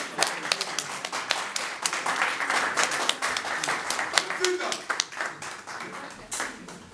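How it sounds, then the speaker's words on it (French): Concert audience applause, with crisp individual claps standing out against a thinner crowd of hands and some voices mixed in, rising and falling unevenly. "On va tous accueillir sur un tonnerre d'applaudissements Monsieur Weranson"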